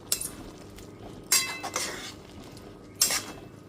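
Jute leaves being mixed in a metal cooking pan over a gas flame: three short scraping clinks of a utensil against the pan, spaced apart, close and moderately loud with quiet between.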